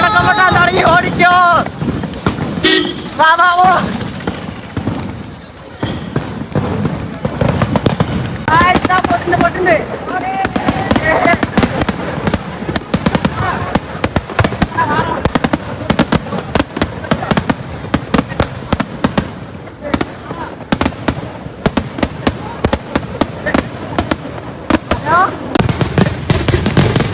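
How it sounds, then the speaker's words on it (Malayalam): Firecrackers set off at the Vadavannur Kummatti festival in Palakkad crackle in dense, rapid strings of loud bangs throughout, with wind buffeting the microphone and people shouting and talking beneath the barrage. "അവിടെ പടക്കം പൊട്ടാൻ തുടങ്ങി."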